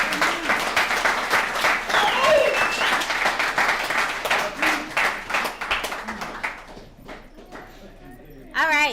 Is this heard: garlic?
no